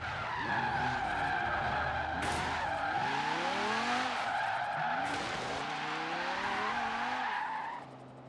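Car drifting in Forza Horizon 3 with long, loud tire squeals sweeping up and down in pitch over a steady engine drone, several skids running together before fading out.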